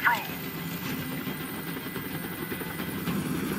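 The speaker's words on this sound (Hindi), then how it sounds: "Tell that helicopter to get out of here." A helicopter rumbles overhead in a hostage scene from the video game Detroit: Become Human, a steady low engine drone with rotor texture running under game dialogue and ambient sound.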